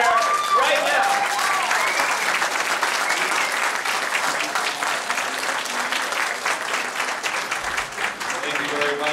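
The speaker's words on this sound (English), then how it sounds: "I want you to stand to your feet and shout and raise your hands and clap" A conference audience claps loudly and continuously in a dense, steady burst of applause, with some cheering and voices mixed in throughout.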